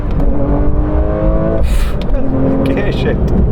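A Porsche 911 S/T engine revs as the car drives, a loud sweeping engine note with rising harmonics heard from close by, with a voice talking over it.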